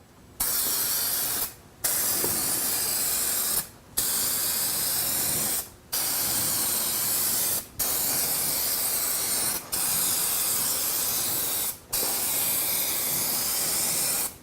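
An aerosol spray can coating car headlights hisses in long, steady bursts of about two seconds each, with brief pauses between them, loud and close with no voices.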